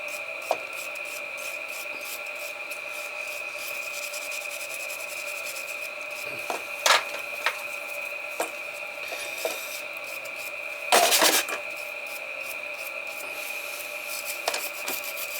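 Someone scrubs and polishes a Burnham boiler's plate during a service, with a few short rubbing strokes breaking over a steady, ringing mechanical hum in the background.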